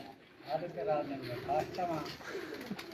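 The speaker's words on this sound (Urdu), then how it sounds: "ملک عامر کلیار صاحب کے پاس جو کبوتر ہے" Pigeons coo softly in repeated low, throaty bursts, close by, with a voice speaking over them.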